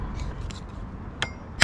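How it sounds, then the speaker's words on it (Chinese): A hammer drives a threaded stud post into place on a vehicle, giving two sharp metallic taps near the end over a low background rumble. "很容易就敲进去了"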